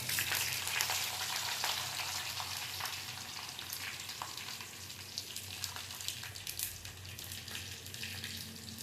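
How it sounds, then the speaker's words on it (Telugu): Tempering spices with dried red chillies sizzle and crackle in hot oil, a continuous close hiss dotted with sharp pops, steady for several seconds with no voices. "నూనె కాగిందండి. చిక్కటి ఆయిల్లో మనం తాలింపు మీద వేసుకోవాలి. తర్వాత ఎండుమిరపకాయలు,"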